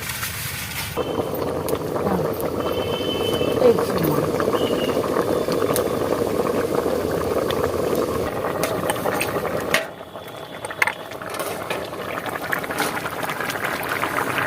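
Fish curry with okra and potato boils in a covered pot, giving a steady bubbling simmer that drops away near the end, leaving quieter background noise.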